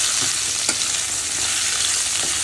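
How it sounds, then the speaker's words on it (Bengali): Fish frying in hot oil in a home kitchen, a loud steady sizzle with faint stirring clicks, close and continuous with no talking. "তবে মাছ ভাজা অলমোস্ট হয়েই গেছে।"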